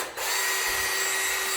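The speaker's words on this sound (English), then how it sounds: "Let me just unscrew this really quick" A power drill whirs steadily in reverse as it backs a screw out of a homemade RC curry-stirrer assembly, a continuous close, loud motor whine with no talk.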